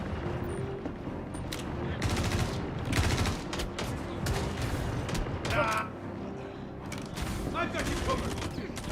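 Ship turrets fire in a Star Citizen space battle as dense, continuous gunfire: rapid bursts and booms stack into a loud, sustained barrage over a heavy low rumble.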